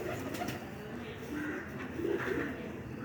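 Pigeons coo softly and continuously in low, murmuring phrases, faint and close, over a hissy background.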